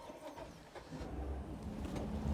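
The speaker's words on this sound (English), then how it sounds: "let me start up the engine and take her out for a spin." A 2025 Sea Ray SLX 260 boat engine starts up, a faint low rumble that swells and settles into a steady idle over a couple of seconds, heard alone.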